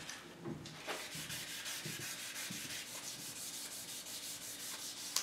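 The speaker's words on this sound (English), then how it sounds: "Take some wet sandpaper." Waterproof 600 grit sandpaper is rubbed lightly over the painted finish of an old Singer sewing machine, making a soft, continuous rhythmic scrubbing of quick back-and-forth strokes, close and quiet.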